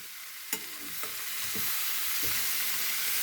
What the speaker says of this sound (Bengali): কুমড়োগুলো একটু ভেজে নিলাম